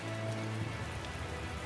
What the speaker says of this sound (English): That's some loud rain.